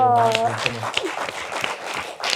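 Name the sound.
round of applause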